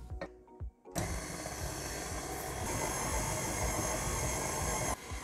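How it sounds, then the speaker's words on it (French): Brioche dough for Alsatian mannele being mixed with egg and milk by an electric mixer, which starts abruptly after a second of faint clatter and runs as a loud steady whir before cutting out near the end. "On peut maintenant mélanger le tout"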